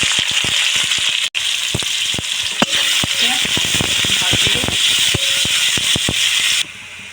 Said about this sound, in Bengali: তো কড়াতে তেল গরম করতে দিয়েছি, এখন দিয়ে দেবো কুচি রাখা পেঁয়াজ।